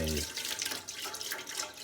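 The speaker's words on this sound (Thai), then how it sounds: "ตั้งหม้อแล้วก็เทน้ำกะทินะครับเทน้ำกะทิลงไป" Coconut milk pours steadily into a cooking pot for Thai nam ya fish curry sauce, a close, continuous liquid rush, with a voice partly over it.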